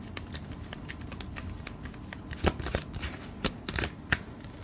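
Tarot cards shuffled by hand during a card reading, a steady papery riffle and slide with several sharper snaps of cards striking together, close and fairly quiet, with no talking.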